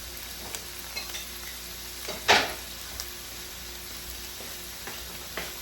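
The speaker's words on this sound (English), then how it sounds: "and then we'll put our onions, and you can even put a little bit more onions if you want." Onions and garlic frying in a pan make a steady moderate sizzle with occasional light stirring clicks and one louder scrape, heard close with no talking.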